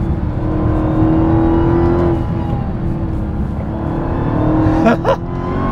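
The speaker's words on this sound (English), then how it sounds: "Oh, that supercharger sounds so good" Dodge Charger SRT Hellcat Redeye with its supercharged V8 accelerating hard, a loud close roar with a rising supercharger whine, steady and continuous, ending in a brief gear-shift burble.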